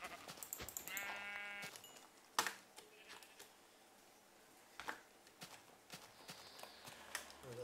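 Several sheep bleat in the Minecraft video game, a few separate cries spread across a quiet stretch, with a soft clopping of footsteps and a sharp click among them.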